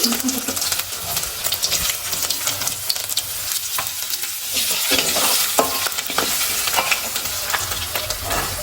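Fenugreek seeds and spices sizzle in hot oil for a date pickle while a spoon stirs steadily, with scraping clicks over a loud continuous hiss, close up.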